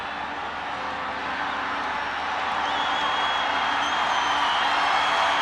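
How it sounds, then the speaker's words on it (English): Stadium crowd at a Nepal vs Myanmar women's international football match, a steady dense roar of many voices that swells slightly and stays loud and continuous, with no distinct talk. "The crowd awaits."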